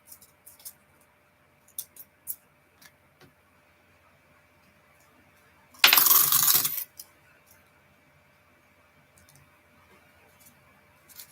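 Coins from a roll of dimes spill and rattle in one dense, loud burst of about a second, set between scattered faint clicks and handling taps in an otherwise quiet room.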